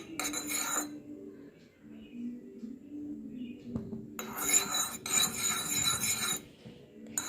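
A spoon scraping and stirring melted wax in a small bowl, with bursts of gritty rubbing separated by quiet pauses and a faint low hum.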